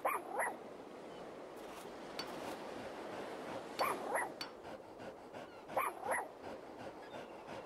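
In the video game An English Haunting, a dog barks in three short, separated bursts of paired yelps, faint against a quiet ambient background hum.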